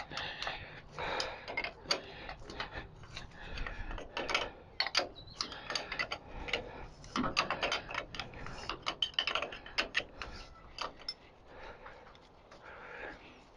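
A ratchet clicks in short irregular bursts, close and fairly quiet, while turning rusted cylinder head studs on a Ford 4000 classic tractor, with pauses between strokes.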